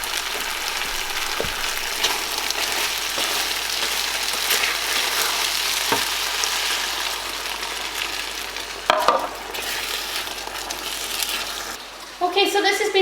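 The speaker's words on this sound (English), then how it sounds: "you're just going to very slowly start to add your stock in, bit at a time" Stock is added a little at a time to a thickening sauce on the heat for a chicken and chorizo pie filling, giving a constant close sizzle and bubbling with occasional spoon scrapes and clinks against the pan.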